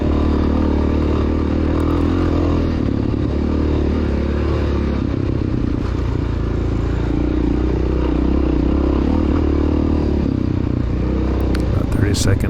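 A 1993 Honda XR600R dirt bike races a cross-country course at Cub Mountain, its big single-cylinder engine droning loud and close throughout with rattling clatter, while a voice talks over it.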